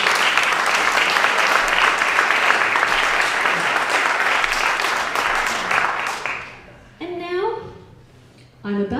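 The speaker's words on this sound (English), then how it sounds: "give yourselves a round of applause" An evening audience applauds loudly and steadily for about six seconds, then the clapping stops abruptly and a voice begins speaking into the quiet that follows.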